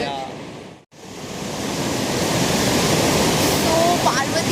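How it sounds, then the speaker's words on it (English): The Parvati River near Kasol in Himachal Pradesh rushing in full force, a loud steady broadband roar of churning water after a brief dropout at the start. "Parvati River is really beautiful and she's in full force right now."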